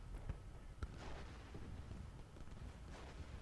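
Booming artillery fire from the Ultimate General: Gettysburg Civil War strategy game, with a couple of sharp blasts early and then a steady low, rumbling din of distant cannon fire.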